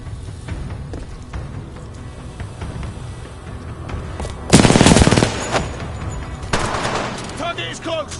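Burst of loud automatic gunfire in the Titanfall 2 shooter, a dense rapid rattle lasting under a second, then a shorter second volley over a rumbling battlefield background with muffled radio-style voices.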